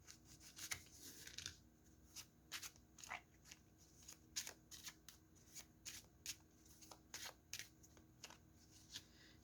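A Cigano card deck being shuffled, with a steady run of crisp riffling snaps and soft rustles, close and fairly quiet, no talking.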